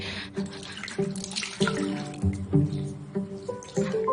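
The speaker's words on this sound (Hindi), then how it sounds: "ठीक से धोना।" Tap water runs steadily into a sink while something is washed by hand, with splashes and clattering knocks of objects under the stream.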